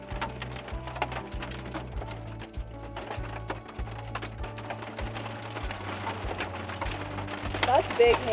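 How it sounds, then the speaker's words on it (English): Large hailstones strike the ground and nearby surfaces during a thunderstorm on a mesa ridge, in a steady rattle of clattering impacts beneath intermittent speech. "That's big hail."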